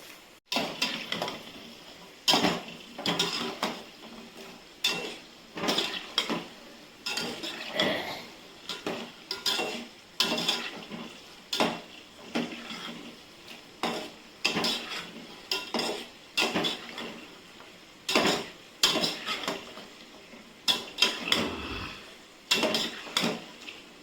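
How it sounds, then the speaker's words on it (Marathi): Cashews frying in a pan for a cashew curry, heard as a regular series of spoon scrapes and clinks against the pan over a faint sizzle, close and fairly quiet. "सर्वप्रथम हे काजू तळून घ्यायचे"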